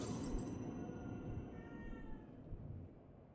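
A cat meows in a stealth action game, the Hitman-style sequence carrying a steady bed of ambient game noise under the brief cat calls.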